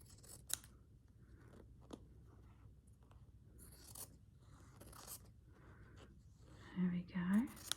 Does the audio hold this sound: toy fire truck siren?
no